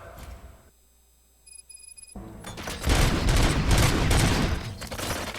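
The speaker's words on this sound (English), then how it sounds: "Gunshots? What's going on?" A short electronic tone gives way to a burst of loud rapid gunfire in RoboCop: Rogue City that rattles on continuously, dense and close.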